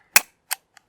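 A French Type Armée 1928 double-action revolver fires three sharp, dry cracks in quick succession, the first loudest and the later ones progressively fainter and shorter, each ending almost instantly in silence.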